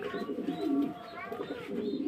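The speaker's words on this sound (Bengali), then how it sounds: "এখানে এক পেয়ার কবুতর আছে" A pair of Mundian Roman pigeons cooing softly at close range, low rolling coos over a quiet background with faint voices nearby.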